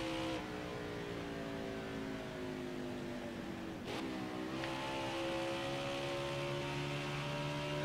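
A stock car engine in the NASCAR Heat 5 racing game, throttle stuck wide open and brakes gone: a steady, loud, droning roar with a layered harmonic whine that dips in pitch, then climbs again.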